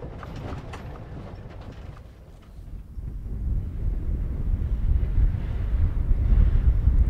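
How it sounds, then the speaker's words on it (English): Wind gusts buffet the microphone on a desert road in Arizona, a steady low rumble that dips briefly then grows stronger and heavier toward the end. "Windy."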